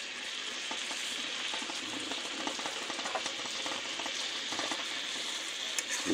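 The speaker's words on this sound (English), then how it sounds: "Pretty soon you hear it, it's gonna start caramelizing." Sausage coated in barbecue sauce sizzles and caramelizes in a pan, giving a steady, close frying crackle of moderate loudness with no talk.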